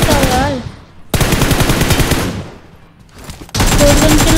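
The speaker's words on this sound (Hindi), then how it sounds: "गन चला रहे हैं।" Machine gun fire from a mobile battle game comes in loud, dense bursts of rapid shots, broken by two short gaps, close and dominant in the mix.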